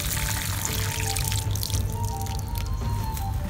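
Water pours steadily into grow bags of soil, a soft continuous splashing and trickling heard close up without talk.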